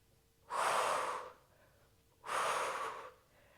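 Heavy breaths during a mini-ball Pilates workout, two long, loud breaths close to the mic with a quiet pause between them and no speech.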